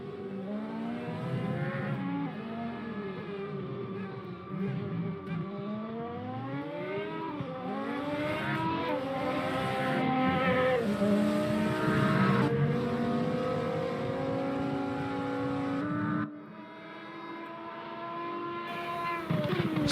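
Race cars in a sim racing endurance event with LMP1 and LMP2 prototypes, several engines whining and shifting through gears with rising and falling pitch, running continuously without talk.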